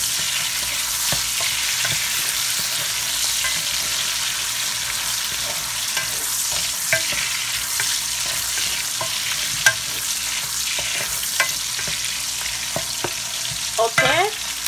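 A hot dog fries in a pan with a loud, continuous close sizzle, busy with crackles and the occasional scrape of stirring, and no voices.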